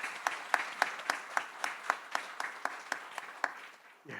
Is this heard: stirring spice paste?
no